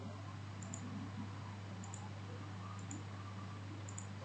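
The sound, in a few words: computer mouse clicking in NX CAD software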